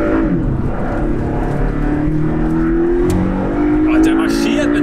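Porsche 718 Cayman 2.0 four-cylinder without a particulate filter revs and pulls, its engine note climbing steadily in pitch and swelling loud and close, with someone talking over it throughout.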